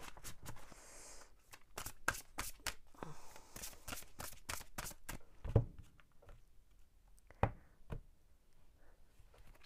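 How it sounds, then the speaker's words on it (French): Tarot cards being shuffled and handled in a series of crisp, rapid riffles and flicks, with a couple of sharper taps or knocks near the end; close and fairly quiet, no talking. "on va prendre une carte de ce jeu"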